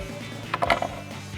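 A magnetized screwdriver turns Phillips head 10mm screws into a rear spoiler on a 2024-2026 Mustang, heard as a brief cluster of close ratcheting clicks in the middle of an otherwise quiet moment.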